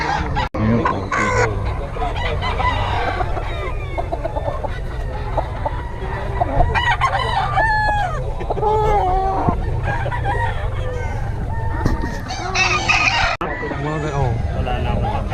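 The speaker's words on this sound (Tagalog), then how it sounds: "Mga manok dito." Chickens cluck and a rooster crows repeatedly through a busy outdoor scene, steady and fairly close, with someone talking over them throughout.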